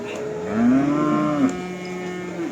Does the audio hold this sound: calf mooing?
yes